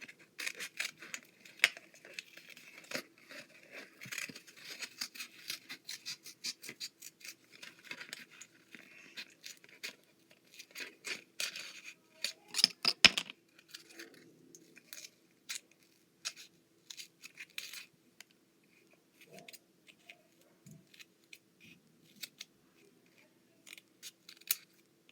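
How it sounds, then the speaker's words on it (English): Scissors snipping around a paper circle for a bookmark, giving long runs of small close crunches and clicks with brief pauses, thinning out toward the end. "I just need to cut out a circle."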